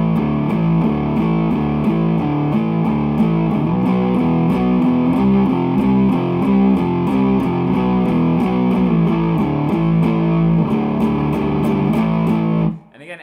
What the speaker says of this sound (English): I really like that kind of thick sound, that always on distortion, making everything dirty